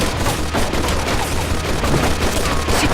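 A Mafia II machine gun fires a dense, continuous burst of rapid shots at close range, loud and unbroken for the whole stretch.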